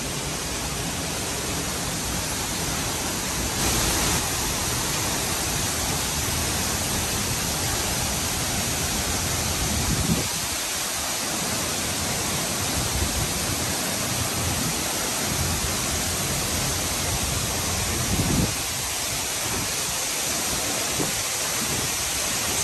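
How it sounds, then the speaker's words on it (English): A small waterfall along an outdoor path gives a steady, dense rush that fills the whole stretch, loud and unbroken, with a few gusty swells. "there's a little mini waterfall right here."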